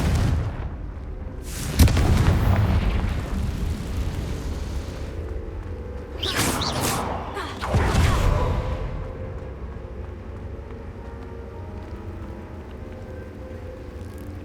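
Confringo blasting spell explosions in Hogwarts Legacy, several heavy booming blasts with rumbling tails, the first near two seconds and a quick pair around six to eight seconds, over a low ambient game background.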